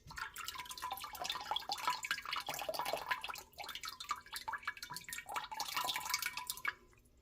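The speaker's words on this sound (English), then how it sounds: "We're just swirling it around loosely in the water." A sieve swirled loosely through untreated water for seedlings gives steady close splashing and dripping trickles, with a brief lull midway, and no one speaks.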